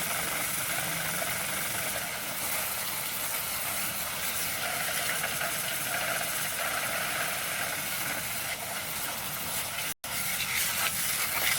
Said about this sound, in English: get in there and get that motor to turn real good